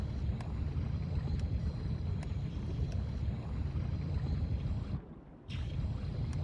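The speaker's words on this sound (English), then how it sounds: "I should be able to use the submarine" A submarine in the game Inside moves through water with a low, steady rumbling drone and watery wash that drops out briefly near the end before resuming.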